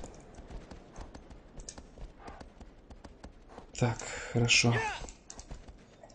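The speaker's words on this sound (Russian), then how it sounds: "Лошадь, ну пожалуйста, ну скачи ты уже, ну." A horse's hooves clop in a quick, rhythmic gallop in the game Shadow of the Colossus, with someone talking over them in the foreground.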